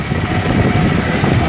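A motorbike engine runs steadily with a low, continuous rumble, heard up close during a ride near Govind Sagar Dam. Nobody speaks over the engine.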